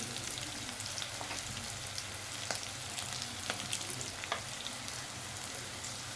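Hot tempering oil sizzles steadily in a pan as chili powder goes in, a soft constant crackle with a few faint spoon clicks, quiet and close, no one talking.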